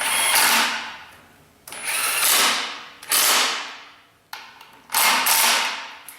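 A power tool works rusty Torx bolts on a Chevy/GMC 2WD truck transmission, giving four loud, bursting whirs, each fading away before the next starts.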